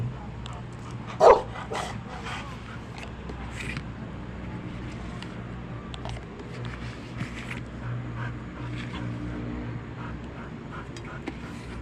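A single sharp bark from a large dog stands out early, then low background rumble and faint scattered sounds continue without further clear barking.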